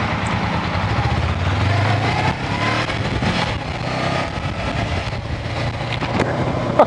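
A Honda 400X motorcycle pulls away from a stop, a loud low engine drone that rises smoothly as it accelerates and then holds steady, with no voices.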